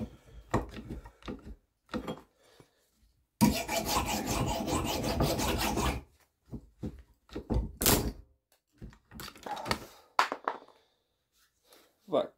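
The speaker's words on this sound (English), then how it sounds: "So I'm just going to do this with a file." Hand file rasping an edge onto a steel knife blade, heard as a long continuous stretch of scraping strokes plus several shorter bursts, close up with quiet gaps between.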